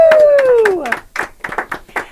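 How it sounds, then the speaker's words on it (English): A small team on a virtual event live stream claps and cheers after a short whooping voice, with a handful of sharp, close hand claps scattered over about two seconds. "you'll also hear regular applause too from our live stream team"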